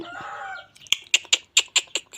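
Chickens cluck in a quick series of about seven short, sharp, close calls, following a softer fluttering, murmuring stretch.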